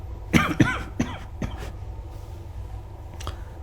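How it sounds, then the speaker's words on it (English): A few close coughs in a quick burst, followed by a quieter pause and one more faint cough near the end. "Sorry for my cough."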